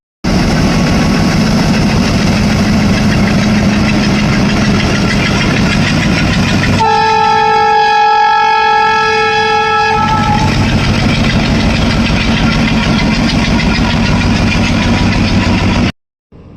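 A loud, heavy second-hand locomotive engine rumbles steadily up close, with a long horn blast sounding partway through before the idling drone resumes.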